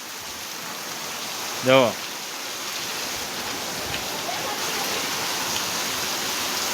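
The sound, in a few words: heavy rain falling on farm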